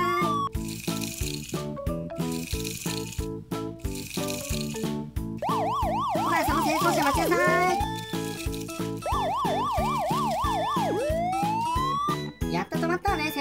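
A Tomica toy police car siren sounds during a pretend chase: a loud, warbling, rising-and-falling wail in the middle, surrounded by steady rattling and clattering throughout.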